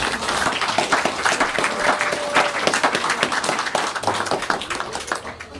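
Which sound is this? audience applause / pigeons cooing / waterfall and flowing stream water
audience applause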